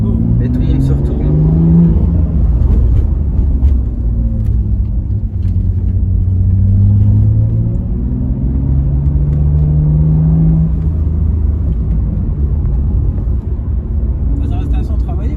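A BMW M2 engine rumbles with deep, low revving that rises and falls in pitch across the clip, heard from inside the car, while people talk over it throughout.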